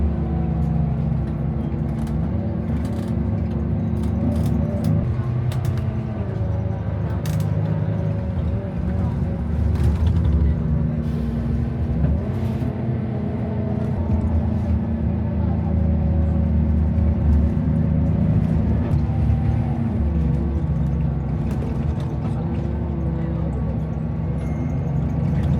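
Bus rolls along the one-way road off the Man Kam To border bridge on the Shenzhen side, a steady low engine rumble and road noise running throughout, with scattered small rattles and clicks inside the cabin.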